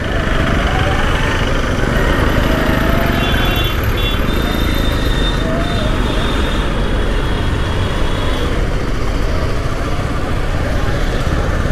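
A motorcycle engine drones steadily while riding toward the Maa Vindhyavasini temple at Vindhyachal, Mirzapur, a constant close rumble mixed with road and traffic noise throughout, with a few faint high horn-like tones partway through.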